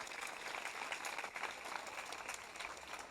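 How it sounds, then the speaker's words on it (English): Applause from an audience at a high school awards ceremony, steady dense clapping from many hands throughout, moderately distant and even in level. "Let's give everyone a round of applause for today."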